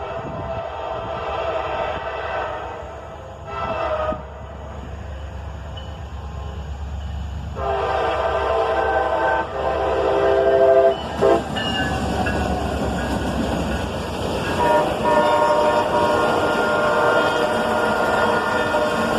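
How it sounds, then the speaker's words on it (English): A freight autorack train led by a pair of SD43 locomotives rumbles past close by, a steady heavy roar of rolling cars with metallic clanks and squeals swelling partway through. "An autorack train, led by a pair of SD43s."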